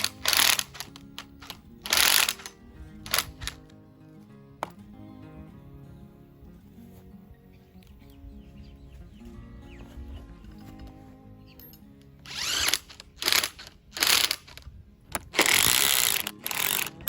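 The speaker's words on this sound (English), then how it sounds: "So I'm just gonna bolt all the bolts in." Ratchet wrench driving bolts to secure a blacksmith's anvil, heard as loud, close bursts of rapid clicking ratcheting at the start and end, with quieter mechanical rattling in between.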